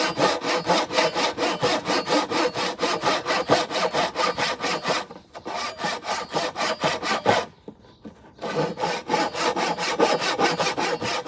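Hand saw cutting through an oak board, fast regular back-and-forth strokes loud and close, with two short pauses before the sawing resumes, no talking.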